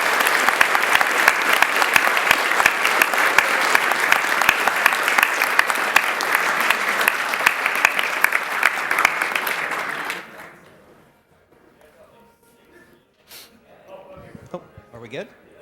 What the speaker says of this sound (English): Can we get another round of applause for the runners, please?